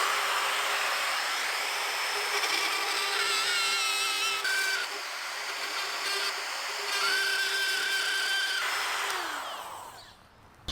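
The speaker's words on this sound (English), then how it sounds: "So I'm just gonna trim away that plywood a little bit." A power tool trimming plywood on a food trailer build runs as a steady, loud whine for about nine seconds, pitch shifting slightly, then winds down and stops near the end.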